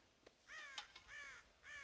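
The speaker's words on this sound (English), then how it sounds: "God damn crows!" Several crows cawing in Red Dead Redemption near a ranch corn silo, a few harsh separate caws in an irregular rhythm over a quiet background, moderately faint.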